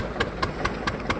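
A tractor engine idles close by with a steady low rumble and regular chugging pulses about five times a second over a brief stretch.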